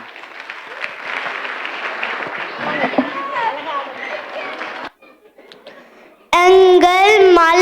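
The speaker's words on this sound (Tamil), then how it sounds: "இன்னொரு முறை எங்களுக்கு கைத்தட்டிடுங்க" An audience claps after a children's stage dance at a Tamil Sangam festival in a high school hall; the applause is moderately loud and ragged, thinning out before a loud voice takes over.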